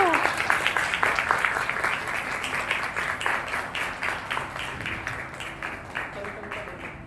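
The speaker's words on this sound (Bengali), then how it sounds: "জোরে হাততালি হবে একটু" Audience at a makeup seminar breaking into dense, continuous applause, many hands clapping steadily close by before the sound gradually thins and fades toward the end.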